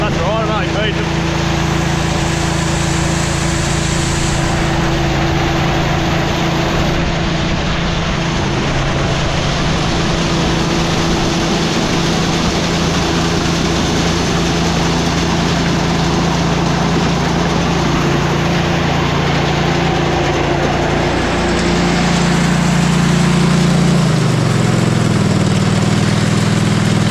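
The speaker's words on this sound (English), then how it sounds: "Turn the old rattly auger off." An old, rattly grain auger runs continuously on a farm while sheep are fed, a steady mechanical hum and rattle that drops in pitch near the end as it winds down.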